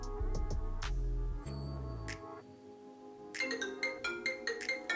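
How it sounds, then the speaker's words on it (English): Phone ringing with an incoming call from Amazon Seller Support, a loud electronic ringtone melody with a sustained tonal phrase, a brief pause, then a series of short bright repeated chimes, with no talking. "And just like that, they're phoning me."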